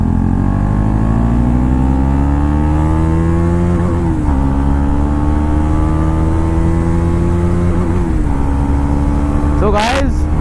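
KTM Duke 250 and TVS Ronin motorcycles accelerate hard side by side in a drag race, engines rising in pitch through gear changes at about four and eight seconds, loud and close, with wind rushing over the microphone.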